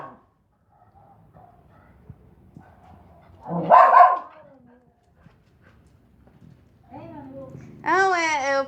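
A couple of high, yelping puppy barks, close by, with quieter background murmurs and soft sounds between them.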